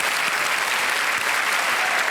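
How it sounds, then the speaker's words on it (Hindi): A studio audience at a television quiz show claps in a dense, steady burst of applause, bright and sustained throughout. "तालियां बजती रहे देवी सदन में।"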